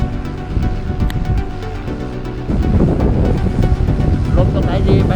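Strong gusts buffet an outdoor microphone on a windy day, a loud rumbling roar that swells and thickens halfway through and keeps going without a break.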